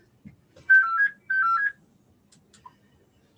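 A mobile phone ringtone plays as two short melodic chirping phrases, clear but modest in level against a nearly silent meeting room, followed by a faint click.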